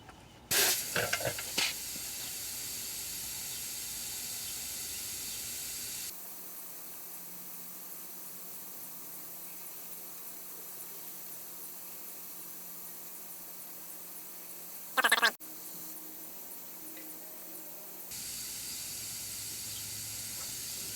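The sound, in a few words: air hissing out of tire through tire deflator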